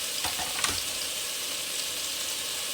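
Chopped celery stalks and garlic fry in the bottom of a pan, an even sizzle with a few soft scraping stirs near the start, close and moderately loud.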